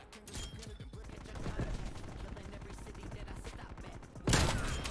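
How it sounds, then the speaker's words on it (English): Gunfire in the Call of Duty Cold War video game, a rapid burst of shots rattling steadily through the clip under a player's voice, ending with a louder blast near the end. "Who's shooting me?"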